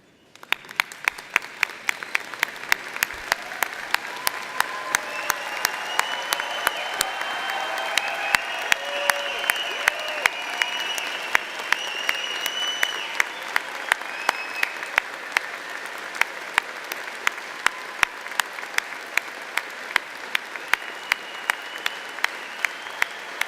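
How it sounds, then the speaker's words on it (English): Sustained applause at a university spring convocation, a large audience clapping steadily for a long standing ovation, with voices cheering faintly beneath the claps. "stand up and give them the standing ovation they deserve"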